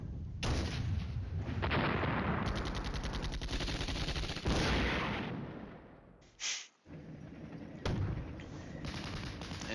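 Artillery fire in the war game Flashpoint Campaigns: Red Storm, a dense roaring barrage of rapid blasts and crackles, with a brief lull and a short whooshing burst before the pounding resumes.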